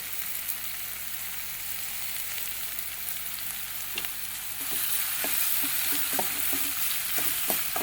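Onions sauté in a pan for chutney with a constant sizzle that grows louder midway, joined by quick irregular spoon scrapes and taps against the pan, close by.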